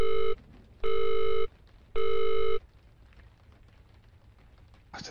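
Three long electronic telephone rings, evenly spaced and loud, come from a phone with an answering machine in the Visage horror video game, followed by a faint low room hum.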